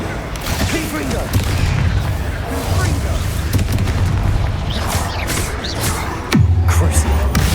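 Confringo blasting spells detonating in a Hogwarts Legacy battle, a dense run of heavy booms and crackling blasts over a low rumbling bed, with a deep impact near the end.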